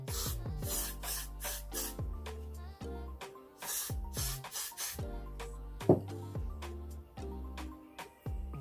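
A hand spray bottle misting a synthetic lace front wig, about a dozen short hissing bursts fired in quick uneven succession, close and fairly loud, with brief pauses between squirts.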